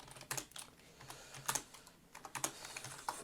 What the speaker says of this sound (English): I'm actually on the forums now typing